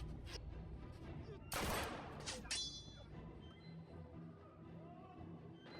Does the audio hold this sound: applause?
no